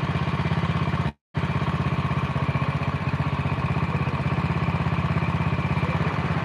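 A Honda Win motorcycle engine runs steadily at about 1500 RPM, giving a close, even, rapid chugging idle with a brief dropout near the start, with no talk.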